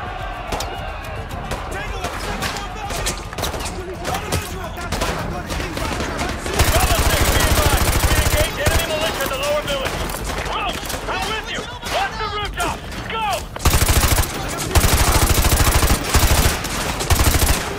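Dense automatic gunfire in the video game Call of Duty Modern Warfare 2 Remastered during a favela firefight, loud sustained bursts and rattling volleys with game voices calling out over the shooting.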